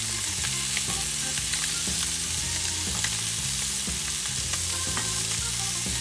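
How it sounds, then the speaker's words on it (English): Garlic fries in a hot pan alongside seared scallops, giving a loud, continuous close sizzle with faint stirring clicks throughout and no talking. "you start adding that garlic"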